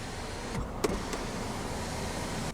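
In a 2019 Mazda CX-5 Signature, the power sunroof motor gives a brief click, then a steady low electric whir running for about two seconds inside the cabin.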